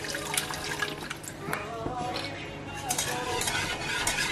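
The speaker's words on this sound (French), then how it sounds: "Et vous remuez en même temps. Et vous rajoutez du lait petit à petit." Sauce for a potato gratin stirred in a pan as milk is added bit by bit, with close scraping and sloshing sounds and light clinks, while a person talks over it.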